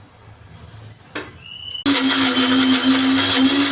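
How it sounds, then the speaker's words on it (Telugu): A kitchen mixer grinder whirs into a loud, steady high-pitched grind as it blends coconut, salt and roasted gram into chutney, starting abruptly after a few quiet clicks and handling noises. "మిక్సీ వేసుకోవాలి."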